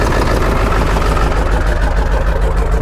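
A Ford 7.3 Powerstroke diesel running rough, its exhaust loud and close with a choppy, uneven pulsing throb that holds steady throughout.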